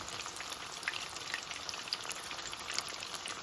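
Fish deep-frying in hot oil, with the oil reaching halfway up the pieces, gives a steady close bubbling sizzle with fine crackling pops throughout, no voices.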